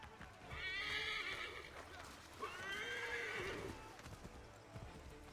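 Horses neigh and whinny twice in the Assassin's Creed 3 video game, each call rising and falling over a soft clip-clop of hooves, with a faint background rumble between calls.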